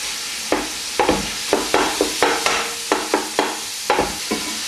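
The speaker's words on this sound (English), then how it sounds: "So stick the minced beef in the hot oil." Minced beef fries in hot olive oil in a pan, with a sizzle broken by a dozen sharp, regular scrapes and knocks as it is stirred, close and fairly loud.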